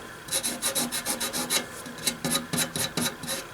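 Rust being wiped off the handle mount of a Kenwood TS 520 radio, a quick series of dry scrubbing rubs in short rhythmic strokes, close and clear with no talking.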